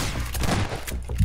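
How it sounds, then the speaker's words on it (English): Rapid shotgun blasts ring out in a cartoon-style video game as players open fire on a sheep, a dense loud volley of overlapping shots with no pause. "All right, guys, get the shotguns out. We're gonna shoot this guy in the face."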